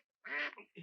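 A single duck gives a short, nasal double quack, close and clear against near silence, with nothing else heard around it.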